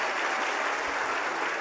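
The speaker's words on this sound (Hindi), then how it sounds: "ताली बजाओ।" An audience at a devotional darbar gathering breaks into a short burst of dense, steady clapping, heard close and alone with no speech.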